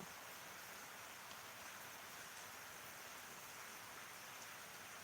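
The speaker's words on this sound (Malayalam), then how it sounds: "മഴ വീണ്ടും വന്നിട്ട് ഇങ്ങനെ ആ ഒരു രീതിയിൽ തന്നെ നിൽക്കുവാണ്" Steady rain falls as a soft, even hiss with no breaks, faint and distant-sounding throughout, with no voices.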